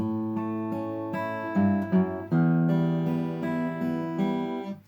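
Guitar fingerpicked note by note, a short run of low bass notes stepping under ringing strings, steady and close, with no voices.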